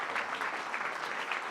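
A church congregation claps together in steady, continuous applause, the dense patter of many hands filling the room at moderate loudness with no voices over it.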